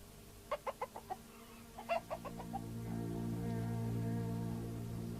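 A rooster on a farm gives a run of short, clipped clucks before breaking into a long, drawn-out crow, heard nearby and fairly faint.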